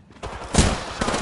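A quick burst of video game gunfire: two or three sharp, loud shots in fast succession, close up and with no voices.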